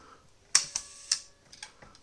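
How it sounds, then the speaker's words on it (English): A Polaroid 180 pack film camera shutter fires with a sharp mechanical click, then a soft ticking whir like clockwork and a second click as it closes, followed by faint small clicks, quiet and close with no talk. "You can hear how it sounds a lot like clockwork when you hit the shutter."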